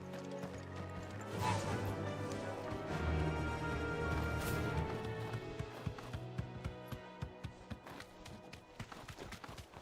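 Galloping horse hooves in a video game, a rapid rhythmic clatter of clip-clopping beats under a busy backdrop of game sound that thins out toward the end, leaving distinct, evenly spaced hoof strikes.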